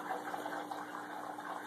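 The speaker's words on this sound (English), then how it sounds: "I made it so it's sloshing around on the top there" Water sloshing at the surface of a 180-gallon Amazon aquarium, stirred by a C530 canister filter outflow: a steady, soft splashing and gurgling, close but quiet and continuous, without talk.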